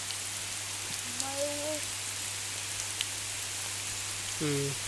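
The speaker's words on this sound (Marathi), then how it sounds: "लय जोरात पाऊस येलो" Heavy rain pouring outdoors near a stream while people shelter, a constant dense hiss of drops on surfaces, with a couple of short voiced calls over it.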